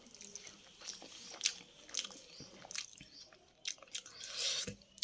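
Close, quiet chewing of a mouthful of rice mixed with chutney: soft wet squishes and small crunches in an irregular rhythm, with no talking.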